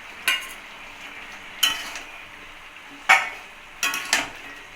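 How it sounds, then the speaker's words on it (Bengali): Fried shrimp stirred into simmering vegetables in a pan, with four separate scraping spoon strokes at a steady pace over a faint background sizzle. "এখন ভেজে রাখা চিংড়িগুলো ঢেলে দেবো।"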